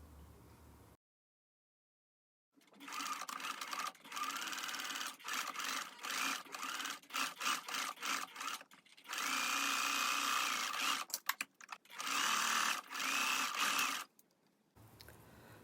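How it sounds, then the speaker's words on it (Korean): A sewing machine stitches along the edges of a linen dress's interfacing, running in bursts of rapid mechanical whirring separated by short pauses and one longer sustained run, loud and close with no talking. "가장자리를 스티치 해줍니다."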